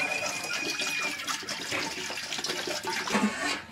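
About a litre of water pours into a cooking pot set on a stove, a steady close splashing rush lasting a few seconds with no voices.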